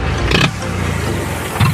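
A Mahindra 475 tractor engine runs with its silencer removed, a loud, close, raw exhaust roar with short bursts of louder revving at the start and end.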